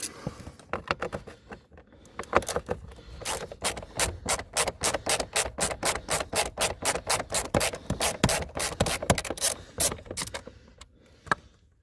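Bolts being removed from a Toyota Previa blower motor, a rapid run of dry rhythmic ratcheting clicks that starts sparse, turns dense and steady in the middle, then trails off, close and fairly loud.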